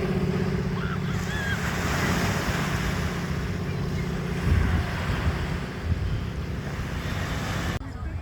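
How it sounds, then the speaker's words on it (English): Ocean waves washing onto Kitsilano Beach in Vancouver make a steady, continuous surf roar with wind noise across the microphone, a surge swelling midway and easing off toward the end, with no talk over it. "the calming rhythm of the waves lull you into a state of pure bliss."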